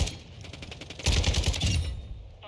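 Automatic gunfire in Warzone 2.0, a rapid burst of shots that swells louder midway, then cuts off and leaves a short fading tail.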